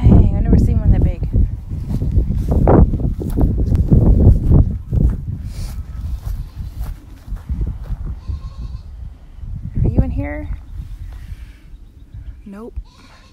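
A mother goat bleats several times, crying for her kid, wavering cries with footsteps and rustling at first, then fewer calls later; a person talks nearby.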